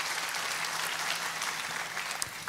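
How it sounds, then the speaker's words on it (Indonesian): A church congregation applauds together in a dense, steady burst of clapping filling the room, loud and continuous without talk. "Boleh tepuk tangannya yang paling meriah buat Yesus Tuhan kita."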